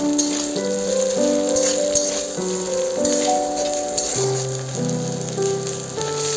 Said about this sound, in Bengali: পেঁয়াজ আদা রসুনটা ভালো করে কষিয়ে দিচ্ছি